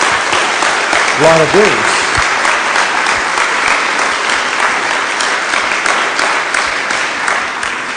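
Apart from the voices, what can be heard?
congregation applause in church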